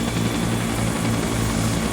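Helicopters in a military video game, a steady loud rotor and engine drone with a throbbing low rumble, continuous and close with no breaks.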